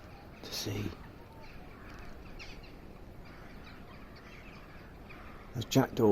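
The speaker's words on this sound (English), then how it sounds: "There's jackdaws and crows." Jackdaws and crows call near a river while a narrowboat is cruising, giving a couple of brief, harsh caws at the start and end over a quiet, murmuring background.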